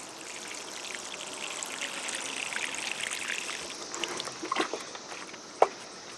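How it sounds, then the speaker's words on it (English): Water pours and trickles steadily at low volume from a watering can into a vegetable container garden pot, a soft continuous splashing with a few small drips and one sharp tap near the end. "I'm going to pour some water in."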